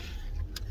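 Interior of a car, a steady low engine and road hum close around, with a brief higher whir or click near the end; no talk.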